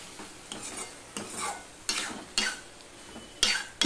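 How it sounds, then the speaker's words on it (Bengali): Ash gourd curry being stirred in a pan, a quiet soft sizzle broken by distinct scraping strokes of a spoon against the pan, roughly one every half second. "এবার সম্পূর্ণটাকে আমি মিশিয়ে নিচ্ছি।"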